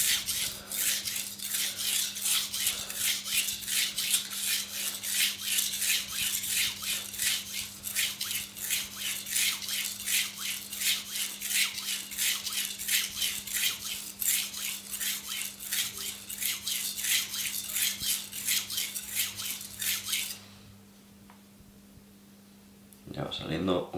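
A super steel knife is sharpened with rapid, rhythmic scraping strokes of the blade across a stone, loud and close, running continuously for about twenty seconds before stopping.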